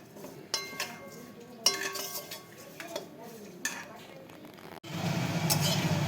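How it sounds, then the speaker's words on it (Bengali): Oats dry roasting in a pan, with a spoon clinking and scraping against the metal in scattered close knocks, then a denser rushing, sizzling stretch at the end. "এই ওটসটাকে একটু ড্রাই রোস্ট করে নিচ্ছি আমি।"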